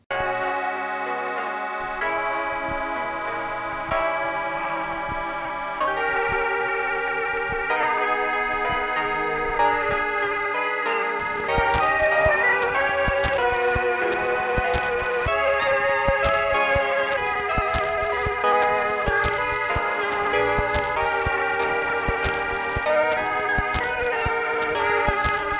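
A music disc track from the Caverns and Chasms mod for Minecraft 1.19.2 plays as a steady layered melody of sustained harmonic tones that thickens into a fuller, brighter arrangement about halfway through, with no talking.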